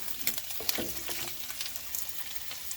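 Chicken browning in a pan with bacon, a steady close sizzle and crackle running through with scattered sharper pops, no voices.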